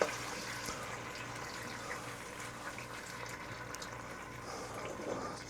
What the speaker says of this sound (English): I'm gonna try to pour off some of the moisture into the pan